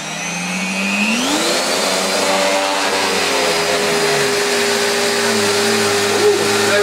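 A Panasonic MC-E42N vacuum cleaner motor starts and spins up with a rising whine, then runs steadily and loudly close by, its hum and airy roar holding for the rest of the stretch.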